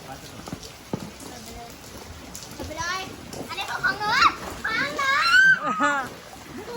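Rain falls and splashes while children play in the water outdoors, with kids' voices chattering and calling over the steady patter.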